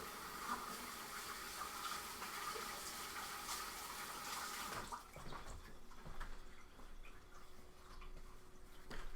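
Tap water runs steadily as hands are washed after mixing Kool-Aid cookie dough, a soft continuous rush that stops halfway through, leaving faint drips and quiet room sounds.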